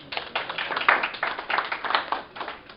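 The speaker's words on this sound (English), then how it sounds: "Round of applause for him." An audience at a stand-up comedy show clapping in a short burst of applause, uneven bursts of hand claps, fairly close, with no talk over it.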